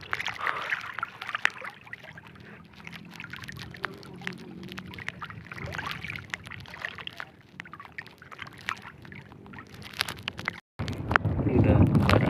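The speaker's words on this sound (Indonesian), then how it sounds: "Anginnya kencang banget." Strong wind buffets the microphone beside a fishing boat at sea, a steady roar with gusty rumble and water sloshing against the hull throughout, swelling louder near the end after a brief dropout.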